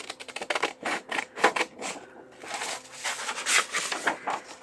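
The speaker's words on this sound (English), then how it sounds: "So I'm going to fussy cut a couple of these out." Scissors fussy cutting vellum labels, a quick run of crisp snips and paper rustles close up, continuing in uneven bursts without speech.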